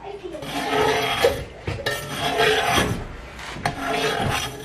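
Cheese curds being cut in a pot while making chèvre, the blade screeching and scraping against the metal in loud, close, drawn-out grinding strokes with short breaks between them.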